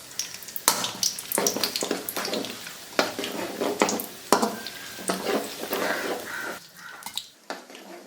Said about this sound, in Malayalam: നമുക്ക് ഈ എണ്ണയിൽ തന്നെ നമുക്ക് അണ്ടിപ്പരിപ്പും മുന്തിരിയും കൂടെ വറുത്തെടുക്കാം